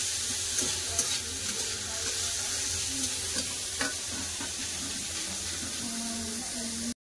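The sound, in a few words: snake gourd frying in a pan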